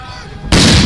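Foreign-made cannons fire a ceremonial salute at an Indian Republic Day parade: after a steady low rumble, a single loud, abrupt boom bursts in midway and sustains to the end.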